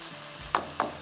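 Fish gravy with mustard paste sizzles softly in a pan, a continuous close hiss broken by two quick spatula taps or scrapes.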